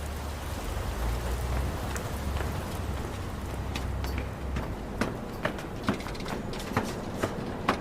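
Steady rain falls on surfaces during a humid morning commute, a dense close hiss with scattered louder drips and taps growing more distinct toward the end, no voices.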